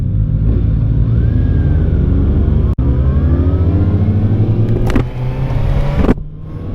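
A Kawasaki ZX6R sport motorcycle on a test ride revs hard through the gears with quick-shifter upshifts, giving a loud continuous engine howl with rising pitch sweeps, sharp brief cuts at each shift, and wind rushing past.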